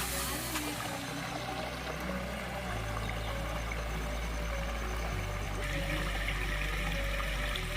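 Water flows continuously with a soft, steady rushing and trickling sound, fairly faint and unbroken throughout, at Gundla Brahmeswaram.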